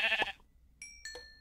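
Sheep bleat in the game Minecraft: two short, tonal bleats come close together after a brief moment of someone talking at the start.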